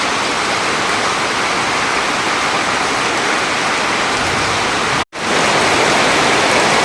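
Heavy rain pours down in a dense, steady roar that stays close and loud, with one brief dropout near the end and no voices.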